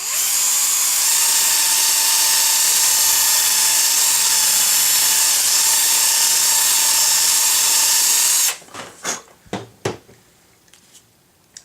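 A power drill bores steadily through wood to fit a wheel on a K37 Kadet LT-40 model plane, a loud continuous whine for about eight seconds, then stops, followed by a few short knocks and clatters.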